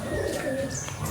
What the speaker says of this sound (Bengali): এটা মাদা পায়রা, আমার বাড়ির ফিমেল পায়রা